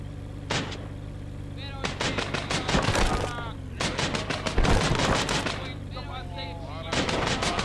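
Rapid bursts of gunfire from a top-down Lovecraftian car-combat shooter game, loud volleys of shots in clustered rhythmic runs with brief gaps between them, dense and close throughout.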